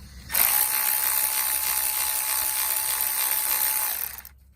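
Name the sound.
Milwaukee power tool removing small bolts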